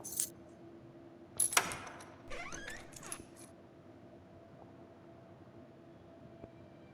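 Keys jingle in a few quick metallic clinks and rattles in the detective game The Last Case of John Morley, fairly close over a quiet hum, with faint trailing jangles afterward.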